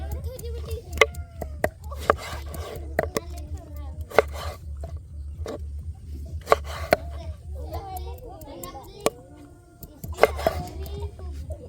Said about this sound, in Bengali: তো টমাটোমটাকে কেটে নেবো এখন।